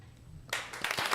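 A short applause sound effect on a country radio show: quiet for half a second, then a sudden burst of clapping that continues to the end.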